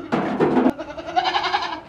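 A plump, healthy goat separated from her kids bleats loudly and close by in one long wavering call, followed by a thinner, sustained second cry.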